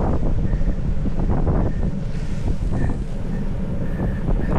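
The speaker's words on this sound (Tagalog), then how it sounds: "Lakas ng hangin guys." Strong wind roars across the microphone while riding a motorcycle along the North Luzon highway from Pasuquin to Vigan, a loud, constant, buffeting rush with no voices over it.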